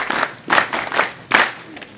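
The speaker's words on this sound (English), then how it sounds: "Join me in giving a round of applause to both the commandant, the CI, and the staffs" A crowd at a Mountain Division pass-out military ceremony claps in a few uneven bursts, loud up close and fading between surges.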